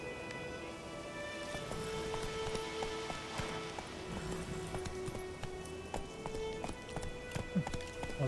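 Hoofbeats of Roach, a horse in The Witcher 3 video game, clip-clop in a steady rhythm under patchy rain and faint ambient game sound, fairly close and moderately loud.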